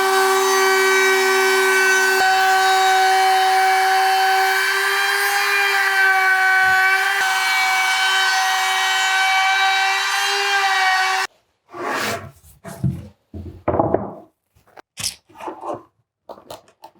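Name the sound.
router rounding over edges of wooden noodle board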